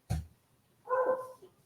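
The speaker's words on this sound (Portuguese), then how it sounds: "A cachorrada está aqui sozinha" A dog nearby gives a sharp single bark followed by a longer whining, howl-like yelp, close and fairly loud with no talk.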